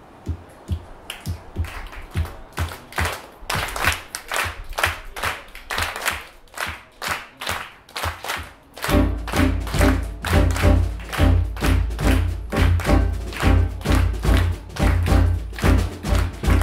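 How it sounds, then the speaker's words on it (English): An audience at a jazz concert claps along to the beat, starting sparse and irregular before settling into loud, steady rhythmic clapping joined by a deep pulsing beat in the second half. "So help me clap like this"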